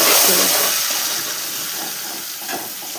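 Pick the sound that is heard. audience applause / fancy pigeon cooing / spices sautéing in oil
spices sautéing in oil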